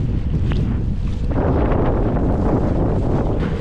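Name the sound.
strong headwind on a boat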